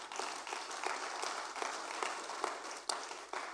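A church congregation claps for Jesus during a sermon, a broad, fairly soft wash of applause from many hands with a few sharper claps standing out, heard from some distance.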